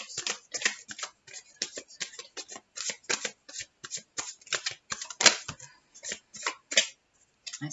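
A deck of tarot cards is shuffled close by in quick, rapid riffles and taps with short pauses between bursts, and no voices are heard.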